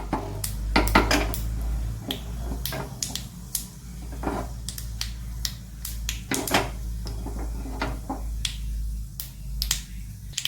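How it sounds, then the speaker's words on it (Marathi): Cumin and mustard seeds crackle in hot oil for a tempering, with sharp, irregular pops and snaps scattered over a low steady hum. "पहा फोडणीचा तुम्हाला आवाज येत आहे अजून जिरं मोहरी तडतडत आहे"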